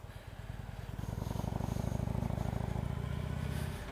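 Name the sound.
motorcycle engine idling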